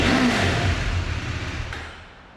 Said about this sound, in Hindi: अभी आइडल पे इसे स्टार्ट कर लें, KTM को स्टार्ट कर लें, सेम साउंड आएगी आपको